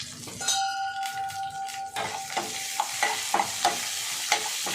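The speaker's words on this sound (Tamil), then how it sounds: "இப்போ வந்து ஒரு பச்சை மிளகா. இது நம்ம இதை வதக்கிடலாம்." Green chili sautéed in a pan for a fish and vegetable aviyal: a steady sizzle runs under repeated sharp scrapes and clinks of a spoon against the pan, with a sustained tonal ring in the first two seconds.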